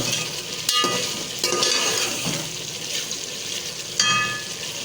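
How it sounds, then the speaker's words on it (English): A spoon stirs chicken aloo curry simmering in a pan over a medium flame, with a soft constant sizzle broken by several scraping, knocking strokes against the pot, heard up close. "We'll stir it a little bit."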